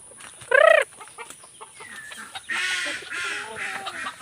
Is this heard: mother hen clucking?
yes